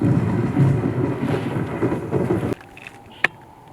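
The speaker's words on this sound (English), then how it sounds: "Come out of the storm." Thunder rumbles loud and low over heavy rain in a wild night storm, then cuts off abruptly into near-quiet, followed by a single sharp crack.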